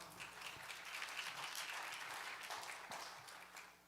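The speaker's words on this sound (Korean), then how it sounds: "박수로 맞아주시기 바랍니다." Faint, distant applause from a conference audience welcoming a presenter at an academic meeting on time-use surveys, a steady soft wash of clapping lasting a few seconds.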